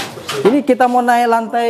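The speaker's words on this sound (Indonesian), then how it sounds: "Itu suara burung di atas." A bird coos in a few short warbling calls from above, inside a five-storey bird house, right after someone speaks briefly nearby, the calls close and fairly loud.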